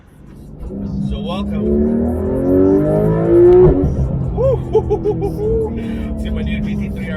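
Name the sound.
Porsche 911 GT3 RS 4-liter engine revving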